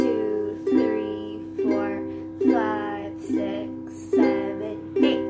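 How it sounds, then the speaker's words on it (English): A ukulele is strummed with a single down stroke on every beat, seven even chord strums ringing close and clear, each decaying before the next, with no talking. "we're gonna do a simple down strum on every beat"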